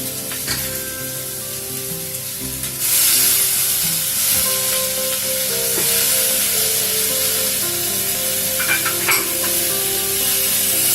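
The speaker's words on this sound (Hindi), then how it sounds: "सबको अच्छी तरह से मिलाना है।" Broken wheat khichdi with added capsicum being stirred in a hot pan, a steady sizzle and hiss broken by scraping stirring strokes that grow louder midway.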